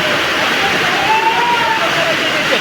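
Heavy rain pouring down at an open vegetable market in Narayangaon, a dense, loud, continuous wash of water noise, with faint voices mixed in.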